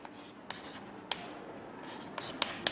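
Pen scratching across paper while a letter requesting leave is written out, a soft continuous scraping with several sharp little ticks of the pen tip, close and quiet, with a voice speaking faintly in the background.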